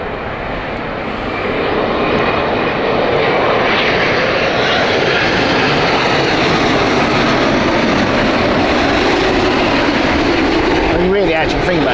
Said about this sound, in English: American Airlines Chicago 787 inbound next.